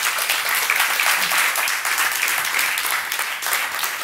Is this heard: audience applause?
yes